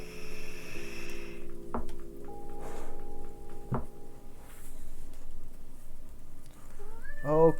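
A cat meows in a few drawn-out, rising cries near the end, loud and close over a steady background hum with scattered clicks, no talking.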